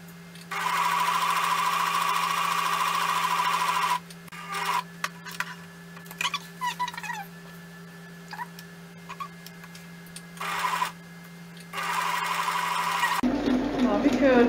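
Sewing machine stitching across the thick wallet-style closure of a large-print cushion cover, running in long steady bursts with stretches of slow, separate stitches and pauses between them.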